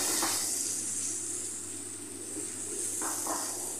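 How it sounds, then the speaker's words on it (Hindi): Kashmiri chili, turmeric and coriander powder fry in oil in a pan for a spiced bottle gourd curry, giving a steady, close sizzling hiss throughout with no talk. "मसालों को हमें तब तक पकाना है जब तक मसाले से तेल अलग ना हो जाए"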